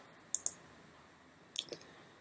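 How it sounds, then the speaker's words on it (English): A computer mouse clicks sharply twice, then a short pause before another quick pair of clicks, close and crisp in a quiet room. "So I click for details"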